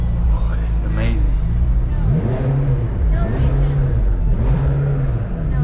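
McLaren sports car engine accelerating in repeated rising pulls, loud and close from inside the cabin, with a person talking excitedly over the engine.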